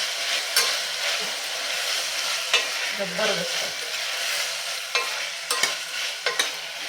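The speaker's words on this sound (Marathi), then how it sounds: "आणि एक साधारण मिनिटभर हे आपण परतून घेऊया" Cubed brinjal and potato pieces sauté in a hot pan for mixed-vegetable masala khichdi, a steady sizzle broken by scraping spoon strokes and clinks of utensil on metal, close and alone.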